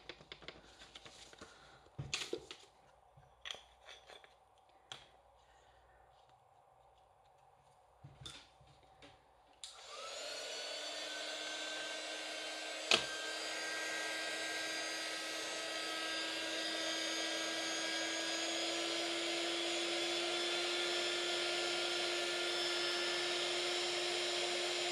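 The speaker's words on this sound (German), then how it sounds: "Jetzt muss ich föhnen." Hair dryer drying paint on a grunge-style painted background, starting after scattered handling clicks and then blowing as a loud, steady whine close by, with one sharp knock partway through.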